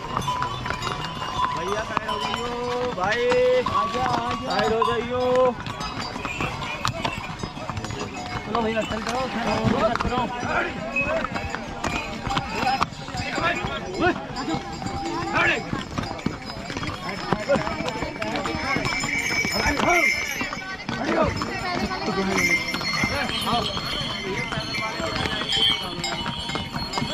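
Horses and mules clip-clopping along the mountain pilgrimage trail to Kedarnath, steady hoofbeats mixed with footsteps and crowd bustle over nearly half a minute, with people talking and calling out nearby throughout.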